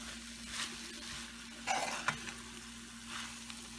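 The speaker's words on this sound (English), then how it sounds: "I'm going to mix this rice with the masala here." Rice is mixed into masala for egg biryani, producing intermittent soft scraping and stirring noises over a steady low hum, with a few sharper clicks midway.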